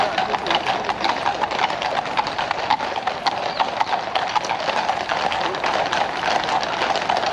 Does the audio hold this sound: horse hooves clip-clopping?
yes